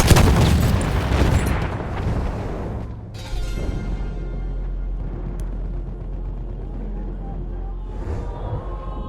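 A grenade blast in the video game Battlefield 1 opens with a loud, heavy boom, followed by a rumbling decay and battlefield noise, with a second sharp crack partway through.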